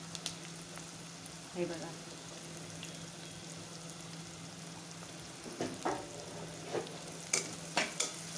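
Onion-tomato masala with salt being stir-fried in a pressure cooker for prawn biryani, with a low steady sizzle and scattered spatula scrapes growing more frequent toward the end, under a brief spoken phrase.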